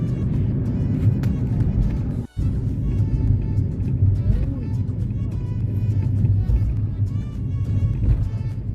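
A car drives along an empty road in Pattaya during the Covid outbreak, giving a steady, close engine and tyre rumble throughout, with a voice faintly under it.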